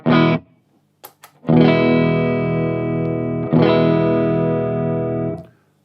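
Electric guitar played through a 100 m cable straight into an amp, without a buffer: a short distorted chord, a few muted string clicks, then two long ringing distorted chords that sustain and cut off.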